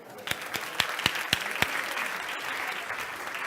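An audience applauding at a lecture, a spread of clapping with several sharp, distinct hand claps near the start over a continuous crowd wash that carries on steadily.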